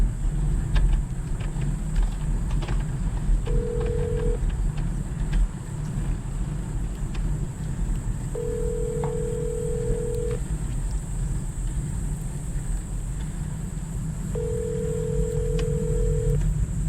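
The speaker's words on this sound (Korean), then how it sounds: "전화 걸어줘" A hands-free phone call rings out through a car's speakers: three long ringback tones, evenly spaced, over a steady hum of engine and road noise.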